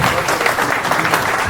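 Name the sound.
applause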